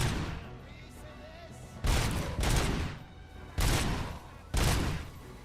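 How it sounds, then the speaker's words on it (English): Grenade launcher fire in the Robocop: Rogue City video game: four loud, broad blasts in irregular succession, each with a booming body and a rumbling tail, over a steady low background. "it was a grenade launcher, dude"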